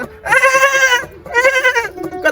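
A person mimics a goat's bleat twice, two long wavering nasal cries with a short pause between them, loud and close.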